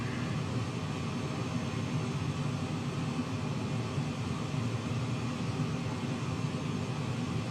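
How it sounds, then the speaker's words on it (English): A fixed-wing airplane passing close by on a flight between CYQT and CYYQ, heard as a steady, broadband engine and wind roar that holds at an even level without much change. "that plane just flew right by us here"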